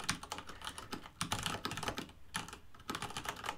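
Quick, uneven keystrokes clatter on a computer keyboard while a command is typed out, close and fairly quiet, with short pauses between bursts and no talking.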